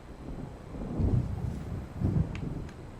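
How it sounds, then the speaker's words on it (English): Low, rolling thunder from a storm over open lake water in the game Alan Wake: two deep rumbles about a second apart, over steady wind and rain noise. "It seems there's a storm coming."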